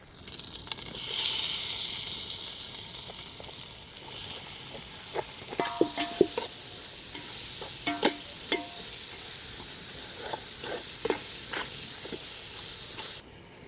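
Tomato and coriander fry in hot oil in a pan for Malnad-style fish curry. A loud sizzle and hiss swells and then settles, broken by a series of scraping, clinking stirs, with no voices.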